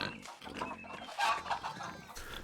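Snuffling pig grunts and oinks from a pig covered in muck in the medieval video game Pentiment, a busy run of close grunts over soft game ambience.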